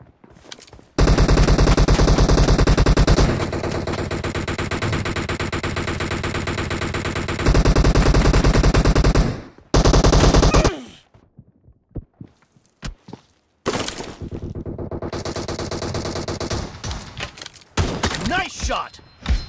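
Sustained automatic gunfire from PUBG Mobile, loud and dense, with rapid bursts running for several seconds, a short pause, then more firing and scattered shots toward the end.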